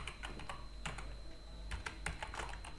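Fingers tap out a short burst of keystrokes on a computer keyboard, quick, close and fairly quiet clicks in uneven bursts with no voice.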